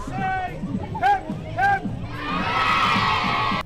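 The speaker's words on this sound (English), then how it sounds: "Crowds gathered in Bridlington on Friday morning to watch the beginning of the Tour de Yorkshire and support the cyclists" A crowd in Bridlington cheers and shouts at the Tour de Yorkshire start, with bursts of children's shrieks over steady babble before a sustained swell of cheering and whistling near the end.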